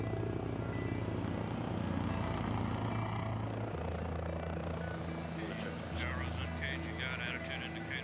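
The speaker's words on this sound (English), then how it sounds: "Taking off and landing like a helicopter, its engines can pivot forward in flight" Steady low rotor drone of a V-22 Osprey tiltrotor aircraft, loud and continuous, with a pitch shift midway and someone talking over it throughout.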